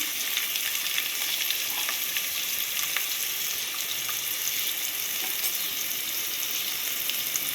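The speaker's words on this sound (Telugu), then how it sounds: "ఆయిల్ వేడైంది కదా, ఇప్పుడు కొంచెం జీలకర్ర వేసేసుకుందాం" Cumin seeds and onion frying in hot oil give off a steady, bright sizzle with small pops and crackles, close up and continuous, with no talking.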